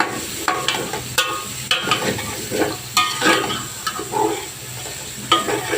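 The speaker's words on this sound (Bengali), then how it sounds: "আমি মাংস একটু ভালো করে ভেজে নিয়ে তারপরে সবজিগুলো আস্তে আস্তে দিয়ে দিব।" Vegetables and chicken stir-fry in a pan for chicken fried rice: continuous close sizzling with repeated scraping strokes of a spatula at an uneven rhythm, no voices.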